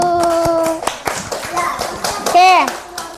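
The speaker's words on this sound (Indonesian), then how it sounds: "Yeay, tepuk tangan dulu." Children in a primary classroom clap their hands in a quick, rhythmic burst of taps, mixed with excited kids' voices and a teacher talking over them.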